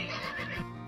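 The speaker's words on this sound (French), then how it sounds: "À l'intérieur, un cheval à la crinière brillante hennit." A horse neighs once, a short, close whinny of about a second with a falling, shaky pitch, heard alone.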